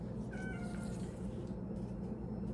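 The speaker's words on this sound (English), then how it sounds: "And my kitty is out with us now, so you might hear a bit of that." A pet cat meows a few times, faint and drawn-out over a steady background hum, the calls brief and somewhat distant.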